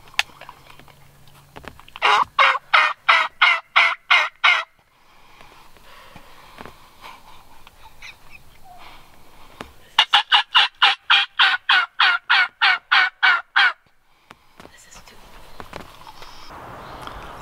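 A wild turkey gobbles in two long, rapid rattling bursts a few seconds apart, loud and fairly near, with quiet outdoor stillness between and after them.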